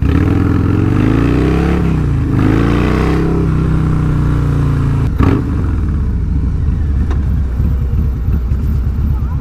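A Harley-Davidson 117 cubic-inch motorcycle with a Stage 2 tune and 30/30 cam revs loudly up close, rising and falling in pitch through a few strong pulls, then settles into a rough, lumpy idle.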